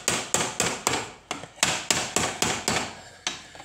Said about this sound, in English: You're not trying to hammer it all the way over.